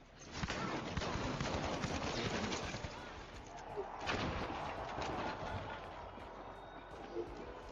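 Continuous distant gunfire and explosions from the arena shooter The Finals, a busy, muffled barrage of shots with game noise underneath at moderate level.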